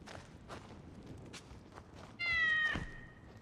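A cat in the video game Assassin's Creed Origins gives a single clear, drawn-out meow near the end, following soft in-game footsteps and light background ambience.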